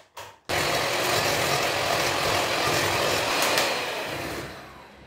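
An electric mixer beats cake batter for a passion fruit and white chocolate cuca, a steady loud whirring drone that starts abruptly after a brief pause and holds evenly before easing slightly at the end.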